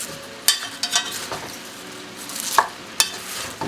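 A spoon stirs chopped cabbage into soup in a pot, producing soft scraping and light clinks against the pot in a few separate strokes, with faint cooking sizzle underneath.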